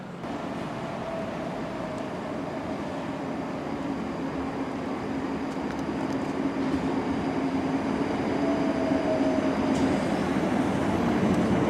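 A suburban train ride in Scotland on the way to Hillfoot, heard from inside as a steady loud rumble and rattle that builds slightly and carries on throughout.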